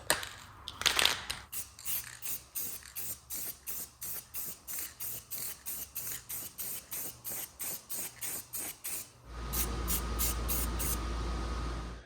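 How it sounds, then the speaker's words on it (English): Satin clear enamel sprayed onto motorcycle side covers and swing arm for a 2009 Yamaha R6 rebuild, heard as a long run of short, evenly spaced spray bursts, then a steady continuous hiss close by. "we're gonna hit it with the satin clear enamel for a top coating to give it a little extra protection"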